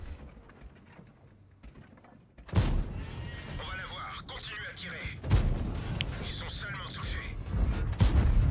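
Tank cannon fire aimed at a KV-4 in a tank video game: a sudden loud blast at about 2.5 seconds, followed by sustained rumbling battle noise and a second heavy thump near 5.3 seconds.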